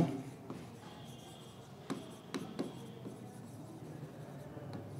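A pen scratches across paper in soft, intermittent strokes with a few sharper taps, fairly faint and close, and no talking.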